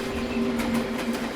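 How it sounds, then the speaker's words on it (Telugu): A train rolls past close by, a steady low rumble with a faint rhythmic clatter running through the short stretch, with no voices over it. "పక్కన ఏమైనా ట్రైన్ వెళ్తుందా?"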